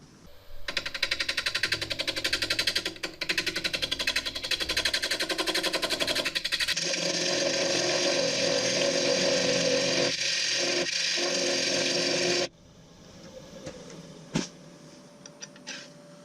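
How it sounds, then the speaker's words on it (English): A small groove is cut into a spinning wood and resincrete rim, a loud, harsh, continuous buzzing cut that roughens midway, then drops abruptly to a quieter whir with a few light knocks. "Now I'm going to cut my little groove in the rim."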